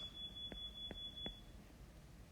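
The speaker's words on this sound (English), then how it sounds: "so that was a fire alarm" Indoor fire alarm sounding faintly in a quiet lecture room: a steady high electronic tone with three short low thuds during it, alone with no talking.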